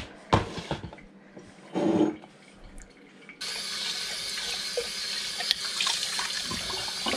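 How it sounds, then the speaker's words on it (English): Tap water runs into and rinses a celery juice cup at a sink, a faint splash at first and then a steady close stream, with soft handling knocks and no talk. "I always rinse my celery juice cup right away"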